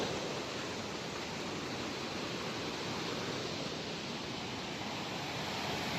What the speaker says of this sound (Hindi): ये देखो इस पेड़ के ऊपर पानी चल रहा है भाई